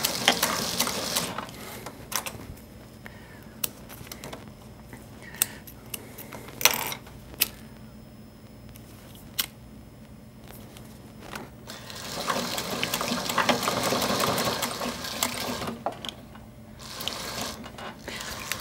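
A sewing machine stitches leather archery shooting tabs, with scattered mechanical clicks and ticks and then a longer burst of the machine running steadily before it clicks to a stop.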